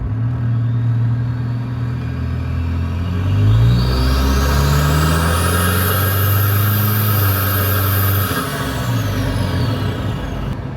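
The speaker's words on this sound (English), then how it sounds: "I'm going to try and just put my foot flat and let it run through the gears a bit." An engine-swapped Nissan Patrol, around 197 horsepower, accelerates hard at full throttle and climbs through the gears. The engine is loud and close, and its pitch rises and drops at each shift over a steady road rumble, with no voices.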